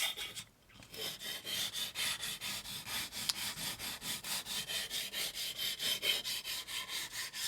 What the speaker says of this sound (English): This is fine grit sandpaper, and what it's doing is removing all the kind of working marks